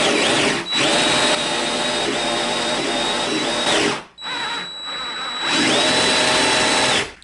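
A power drill whines steadily in two long bursts, broken by a brief drop in pitch and load as it bores into wood to make a wooden pipe, close and loud.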